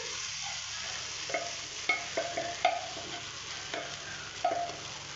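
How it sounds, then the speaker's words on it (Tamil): Idli upma being stirred and mixed in a pan, with a handful of light spatula taps and scrapes over a soft background sizzle, close but fairly quiet, no talking. "நல்லா போட்டு நல்லா இப்போ மிக்ஸ் பண்ணிக்கலாம்."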